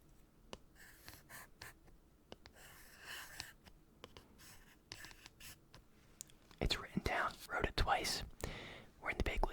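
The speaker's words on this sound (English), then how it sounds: "I think the pencil sounds the best, but it doesn't pick up the best because I gotta write it so hard." A pencil pressed hard on paper scratches in short, uneven strokes, with a whispering voice joining and growing louder near the end.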